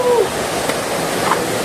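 Waterfall at Tantaran on Palawan, water pouring down into a clear pool as a steady, broad rushing wash that fills the whole short stretch, close and even, with no voices.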